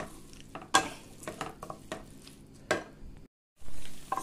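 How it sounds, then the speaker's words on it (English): Rice and other ingredients frying in homemade ghee, with sharp scraping stir strokes and clinks of a spoon against the pan over a soft, quiet sizzle, followed by a short gap of silence. "fry this rice and the other ingredients nicely for about 1 or 2 minutes"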